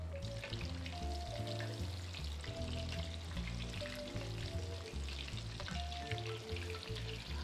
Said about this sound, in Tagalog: while we are waiting for this, piniprito ko to